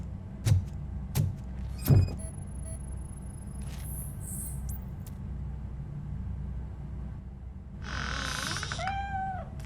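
A cat in Robocop: Rogue City gives a short rising meow late on, after a few low thumps and faint high chirps over a steady ambient hum.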